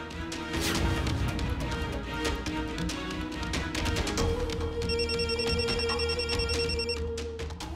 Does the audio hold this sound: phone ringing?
yes